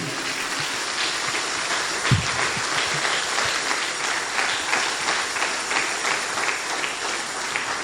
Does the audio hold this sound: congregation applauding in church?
yes